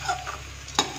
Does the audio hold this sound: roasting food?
yes